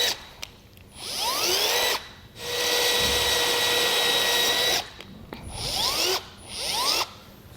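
A power drill whirs in several bursts while drilling pilot holes in a 2011 Ford F-450 Super Duty, revving up and spinning for a few seconds each, with short pauses between runs, close by.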